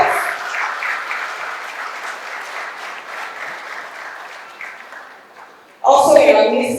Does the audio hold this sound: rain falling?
no